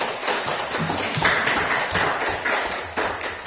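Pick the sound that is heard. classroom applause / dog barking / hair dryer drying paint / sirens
classroom applause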